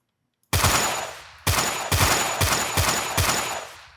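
After a moment of silence, gunfire in a Unity game rings out as several loud, booming shots with ringing tails, spaced roughly half a second apart.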